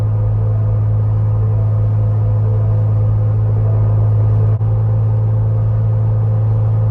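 Steady low drone from a Jeep Rubicon 392 or Ford Bronco Raptor SUV cruising at highway speed on cruise control while towing a trailer, with constant road rumble and a single brief dip partway through.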